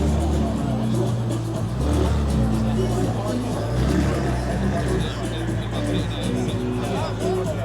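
A Mercedes SL65 with a V12 engine rumbles at a car meet in Essex, a deep, steady engine tone held close and loud while people talk nearby.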